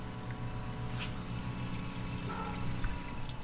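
Fuel draining out of a truck fuel cell on an LS-swapped Ford Ranger desert build, a steady rushing pour of liquid that runs continuously and fairly loud with a low pump-like hum underneath.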